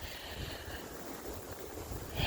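Strong wind blows steadily outdoors at a homestead with chickens, ducks and rabbits on a cold day around 21 degrees, making a constant broadband rush and rumble close to the microphone that swells slightly at the end.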